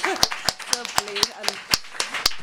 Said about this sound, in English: And more applause.